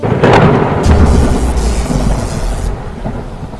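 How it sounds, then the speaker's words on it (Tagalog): Heavy rain pours steadily while deep thunder rumbles and booms through it, loud and close, in an animated storm scene. "ang lakas pa din ng ulan dito."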